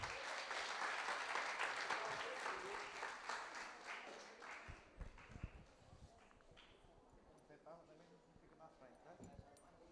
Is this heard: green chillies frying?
no